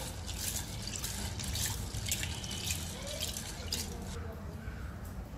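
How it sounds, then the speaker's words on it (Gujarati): Water splashes and runs while soaked val lentils are rinsed with clean water in a kitchen, a steady close trickle with drips and sloshing, no one talking. "તો પલાળવા માટે આપણે પહેલાં ચોખ્ખા પાણીથી 1 વાર ધોઈ કાઢશું."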